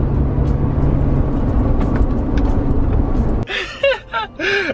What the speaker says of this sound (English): And you guys can actually hear the intakes more.